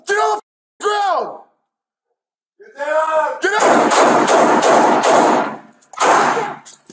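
Gunshots during a San Diego police shootout, captured on a bodycam: a cluster of sharp, close reports in quick succession, mixed with loud shouting voices before and after.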